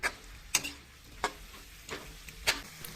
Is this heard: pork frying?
yes